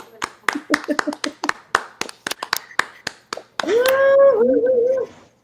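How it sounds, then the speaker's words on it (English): Audience at a late-night comedy game show claps in a series of sharp, separate handclaps, followed by a loud, drawn-out voice. "Let's give her a round of applause."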